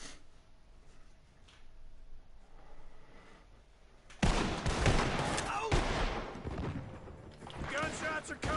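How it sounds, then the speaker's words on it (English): Gunfire from a barn in a video game, a sudden burst of loud, rapid shots that breaks a quiet stretch and continues in ragged volleys. "Gunshots are coming from that barn."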